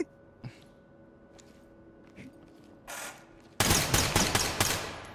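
Automatic gunfire from players shooting at each other in the tactical shooter Ready or Not: after quiet room tone and a few faint knocks, a loud, rapid burst of repeated shots erupts and continues to the end.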